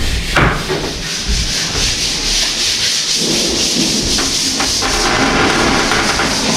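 A tool scrapes primer off a PVC door, a loud, rough rasping and rubbing that goes on steadily with a few sharper knocks mixed in, close up and with no talking.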